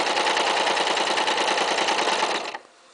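A sewing machine stitches a curved fabric seam, a fast, even mechanical whir with rapid needle clicks, close and loud, stopping abruptly near the end.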